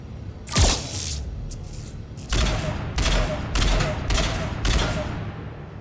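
Gunfire in Mass Effect 3 arrives as one loud blast followed by a run of five or six evenly spaced heavy shots, each a broad bursting crack over a steady combat backdrop.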